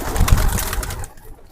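A racing pigeon, a hen that won a race, gives a brief, close cooing burst lasting about a second amid handling noise, then falls quiet.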